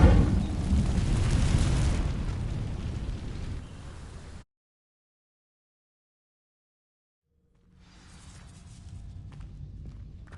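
An Incendio fire spell in Hogwarts Legacy ignites dry vines with a loud, broad whooshing burst that roars for about four seconds, then cuts to silence before quieter crackling ambience returns.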